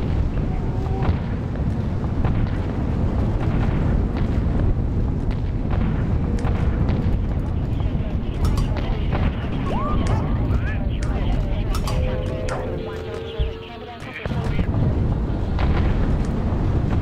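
Artillery in the zombie strategy game Atom Zombie Smasher fires continuously, a dense rumble of booms and blasts with thunder-like roll, dipping briefly near the end before resuming at full loudness.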